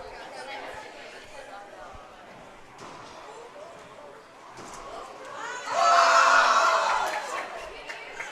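Spectators at a pickleball match at the Arizona Open Championships break into cheers, a swell of crowd noise rising over background chatter and a commentator's voice, peaking loudly for a couple of seconds before fading back.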